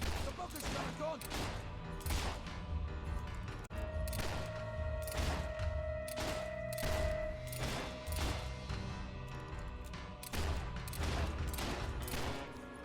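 Rapid bursts of enemy gunfire crackle through a Fable 3 battle, repeated volleys in a steady rhythm over layered game music and effects, loud and close throughout.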